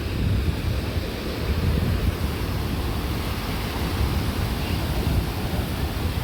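Ocean waves washing onto a beach make a steady, loud broadband rush with no breaks, mixed with wind buffeting the microphone.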